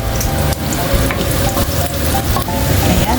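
Garlic fries in oil in a clay pot with a steady, close broadband sizzle and crackle, stirred now and then, with no talking.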